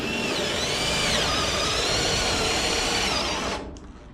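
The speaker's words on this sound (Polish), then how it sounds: "Rozwiercamy teraz jeszcze otwór." A battery power drill whirs loudly and steadily as it widens a hole, its pitch wavering slightly under load, then winds down and stops near the end.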